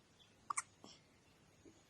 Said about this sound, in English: You gotta get rid of those hiccups,